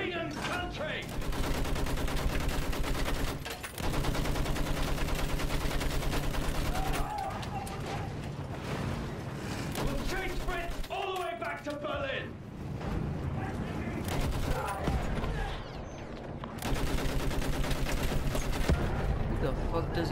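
Sustained machine gun and rifle fire on a World War I battlefield in Battlefield 1, loud and dense rattling bursts with brief breaks, heavy explosions mixed in and voices shouting over the gunfire.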